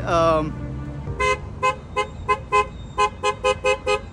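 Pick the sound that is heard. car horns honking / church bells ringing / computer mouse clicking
car horns honking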